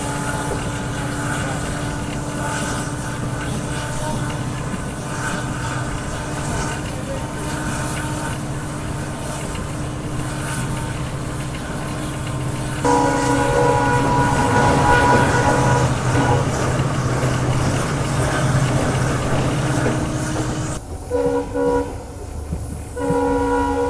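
A train running on the line toward Murkongselek railway station in India, with steady rumbling wheels and carriage noise throughout, growing louder and rougher midway, then a shift in the rattle near the end.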